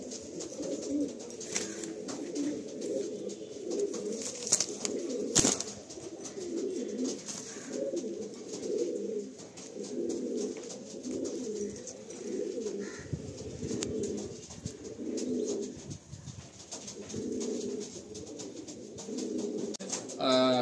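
Andhra line pigeons at a breeding stand in Kolkata coo continuously in a soft, overlapping chorus, the low throaty calls steady and close for the whole stretch, with no talk.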